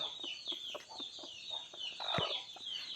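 Hens cluck in soft, repeated bursts at a steady rhythm, fairly quiet, over a faint high-pitched background hum.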